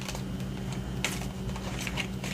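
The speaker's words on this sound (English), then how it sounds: "I also know my shuffling technique is not the best." A large oracle card deck is shuffled close up, giving soft papery riffles and taps over a low background hum.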